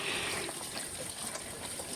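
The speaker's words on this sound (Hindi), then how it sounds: "हाफ केजी भिंडी को मैं पानी से अच्छे से धो रही हूँ।" Half a kilogram of okra is washed in a bowl of water in a home kitchen, giving a continuous, soft splashing and swishing of water with no voices.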